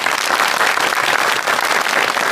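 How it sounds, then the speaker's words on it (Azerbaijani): A live audience at an Azerbaijani comedy show claps in a thick, continuous wash of applause, loud and close, holding steady for the whole stretch. "İnanın ki, alqışlarınızla bizə daha da stimul verirsiniz."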